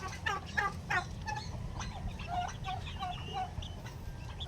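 Bantam chickens cluck and chatter nearby in a quick, uneven series of short calls over a soft low background hum.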